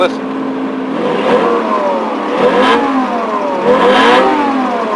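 A car engine at an auto auction revving up several times in smooth rising sweeps, close and loud, with someone talking over the engine.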